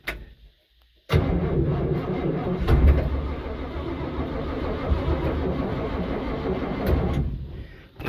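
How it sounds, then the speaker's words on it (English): A 1959 GMC 150 long bed fleetside pickup with a rotted-off muffler cranks and fires while left in gear, then settles into a loud, rough, close running rumble that cuts off near the end, with no talking. "let's see if we start it in gear, what happens"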